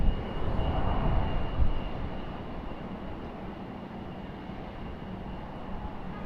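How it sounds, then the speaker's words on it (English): A Republic Airways Embraer E-175 jet at Raleigh-Durham gives off a distant, steady engine rumble, slightly louder at first and then settling into an even, faint roar with no talking. "Lighting looks spectacular for the E-175 Republic Airways"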